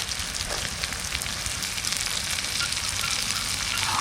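Cumin seeds, garlic and onion fry in a pan beside river crabs, giving a loud, steady, continuous sizzle with no talking.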